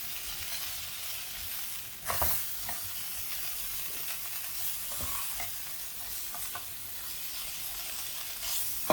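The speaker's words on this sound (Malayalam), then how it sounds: "ഒരു മീഡിയം ഫ്ലെയിമിലിട്ട് നന്നായിട്ട് ഇളക്കി നന്നായിട്ട് വഴറ്റിയെടുക്കാം" Cauliflower and potato are stirred and sautéed in a pan over a medium flame, with a continuous close sizzle broken by scraping stirs and occasional louder scoops of the spoon.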